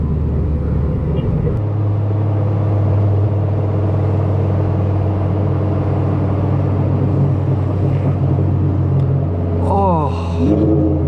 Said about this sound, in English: I just downshifted.